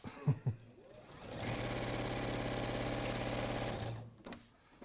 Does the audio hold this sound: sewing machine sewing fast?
yes